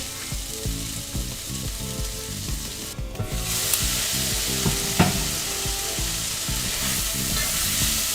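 A pot of shrimp and sausage jambalaya simmers on the stove with a dense, continuous sizzling and bubbling that stays fairly loud and close throughout, with no voices over it.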